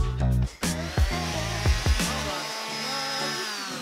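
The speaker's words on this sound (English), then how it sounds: "This is your orbital sander, and you're going to stay flat." A handheld orbital sander used in woodworking is switched on and whirs up into a steady, close motor hum with a high whine, after a few clunks as it is handled.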